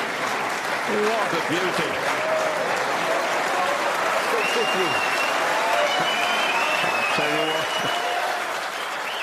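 A snooker crowd applauds John Higgins' shot with sustained, dense clapping that fills the hall. A commentator talks over it throughout.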